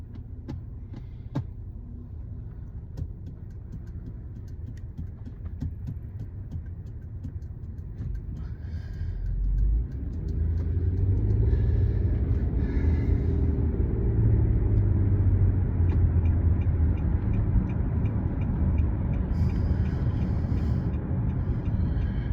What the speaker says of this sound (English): There's traffic about.